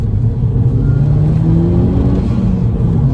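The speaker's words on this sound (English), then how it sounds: "you'll be able to hear the turbo flutter" Engine of a tuned 270 bhp Mk5 Golf GTI droning under load as it accelerates, with a rising whine, turbo flutter and a steady low rumble filling the cabin.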